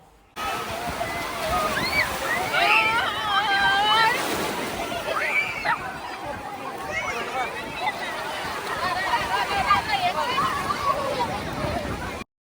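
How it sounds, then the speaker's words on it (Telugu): Ocean waves wash in steadily at Marina beach, a continuous broad surf roar under people talking nearby throughout. "సముద్రం కొంచెం ఎందుకో ఉబికినట్టుంది"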